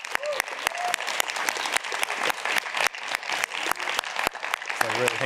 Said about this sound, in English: So really a huge round of applause for everybody here.